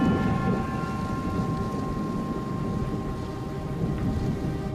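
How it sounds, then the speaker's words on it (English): Thunderstorm around an airport, a low continuous rumble under steady rain noise with a faint tonal hum running through it, loud and even, no distinct cracks and no talking. "thunder begins to reverberate around the airport"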